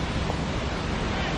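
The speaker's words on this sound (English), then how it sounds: "Oh, it's so windy." Wind blowing into an outdoor microphone in a grassy park in London, a steady broadband rush with no clear breaks for the whole moment.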